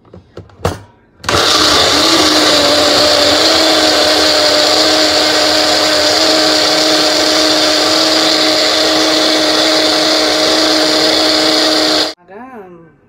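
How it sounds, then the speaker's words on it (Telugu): A mixer grinder blends carrots with a little lime juice for carrot juice, giving one loud, steady whirring run of about eleven seconds that cuts off abruptly after a few brief knocks at the start. "మిక్సీ చేసుకోవాలి."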